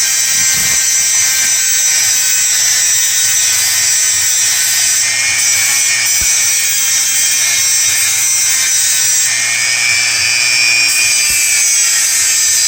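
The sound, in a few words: disc gently grinding brass slot car chassis parts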